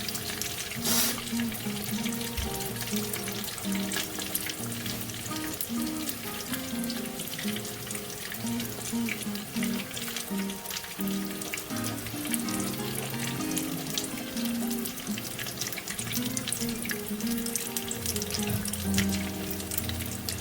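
Potato tacos crisping in a frying pan give a steady, dense sizzle of hot oil that carries on evenly throughout, close up and with no speech.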